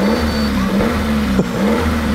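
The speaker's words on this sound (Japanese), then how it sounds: "エンジンがガラガラいってる" A rare car's three-cylinder engine runs steadily at a low idle with a rough, rattly hum, briefly swelling once in a short rev before settling back.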